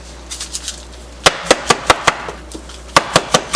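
Clumpy chicken seasoning shaken from a container, heard as a burst of soft rattles and then a run of sharp, evenly spaced knocks, close and fairly loud, with no talking.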